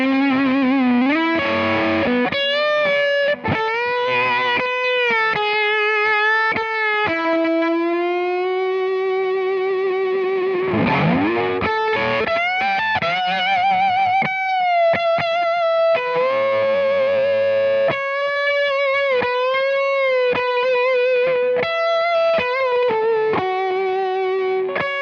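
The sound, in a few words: electric guitar solo with distortion effects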